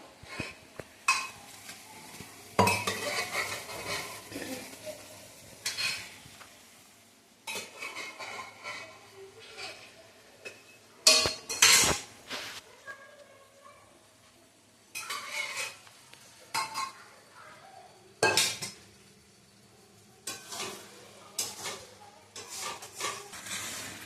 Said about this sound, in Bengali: তো দেখো এই যে চানা পনিরটা যে হয়ে এসছে। দেখাচ্ছিস কষানো হচ্ছে।